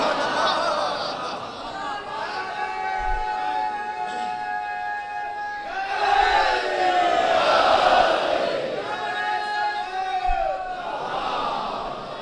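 A crowd at a majlis in Jogipura chants slogans of Ali, many voices rising together in sustained, tonal calls that swell in waves, loud and reverberant in a packed gathering with overlapping shouts.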